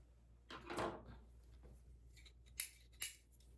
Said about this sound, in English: And they're really old, heavy pair of scissors.